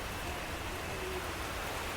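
Heavy rain pours down at a jungle resort deep in a Kerala forest, with water running nearby: a steady, dense, close hiss of rainfall that continues unbroken throughout.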